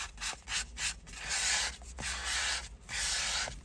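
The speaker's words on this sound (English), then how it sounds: "You can sand away quite rigorously" Rhythmic sanding strokes rub back and forth across a Jaguar XK8 leather steering wheel, alternating short scrapes with longer sustained passes, close and fairly loud.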